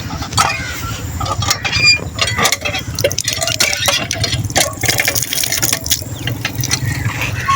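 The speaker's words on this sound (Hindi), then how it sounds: "हम आपको ऊपर जाके नलका दिखाते हैं जहाँ से पानी आ रहा है" Cold, clean water gushes from a village tap beside a canal, a continuous splashing and rushing stream with occasional clinks, close and fairly loud throughout.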